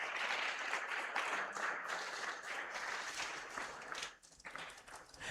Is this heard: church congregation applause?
yes